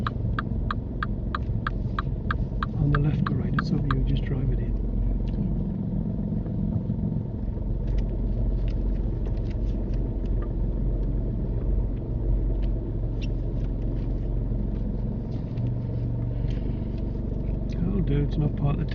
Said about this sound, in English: Drive it forward into a bay.